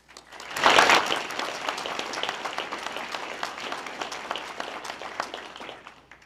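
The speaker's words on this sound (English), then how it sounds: "I'd ask you to recognize them with a quick round of applause" An audience at an annual corporate meeting gives a round of applause, dense clapping that swells quickly, holds steady for several seconds, then tapers off.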